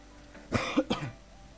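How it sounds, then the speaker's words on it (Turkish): Two quick, sharp coughs sound close to the microphone during a Minecraft gaming session, followed by a faint throat-clearing rasp against a quiet background. "Az bir şey öksürdüm."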